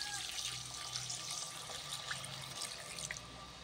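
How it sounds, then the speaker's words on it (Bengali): Water poured steadily into a pan of cooking spinach curry, a continuous close splashing trickle at moderate volume with no talk. "মগের আধা মগ মতন জল দিয়ে দিলাম।"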